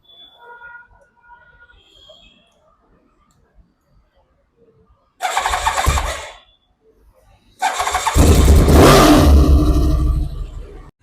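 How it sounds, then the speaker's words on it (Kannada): Used superbike at a Bangalore dealer with stock silencer and no extra fittings, cranking and catching twice: a first loud burst of engine noise fades, then it fires again into a sustained, strong exhaust roar near the microphone, with no talk. "ಎಕ್ಸಾಸ್ಟ್ ಸೌಂಡ್ ನೋಡೋಣ ಬನ್ನಿ ಇದು ಹೆಂಗಿದೆ ಅಂತ"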